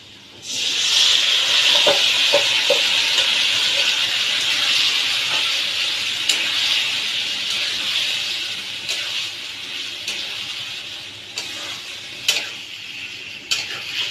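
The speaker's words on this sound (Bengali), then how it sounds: "মাংসটাকে আমার ভালো করে এবার কষতে হবে" Goat meat sizzles steadily in a pan of fried onions as it is sautéed, a continuous bright hiss with occasional stirring clicks and sharp pops, fairly close and with no talking.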